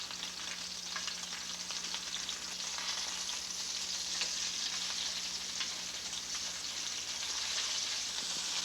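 Rabbit pieces sizzle as they brown in a pan for a Cajun Creole dinner, a steady, close frying hiss with faint crackles throughout and no talk.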